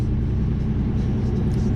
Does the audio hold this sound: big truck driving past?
yes